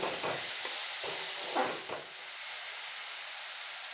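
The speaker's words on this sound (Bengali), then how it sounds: "এবারে পেঁয়াজ কুচিগুলো খুব ভালোভাবে ভেজে নেব" Finely chopped onions frying in oil with green cardamom and cloves, a soft sizzle with several brief stirring scrapes early on, then a quieter steady hiss.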